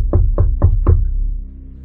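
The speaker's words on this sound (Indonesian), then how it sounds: "Bunyi pintu kami ketuk" Four quick, evenly spaced knocks land on a house door, close and solid, followed by a brief hush with no voices.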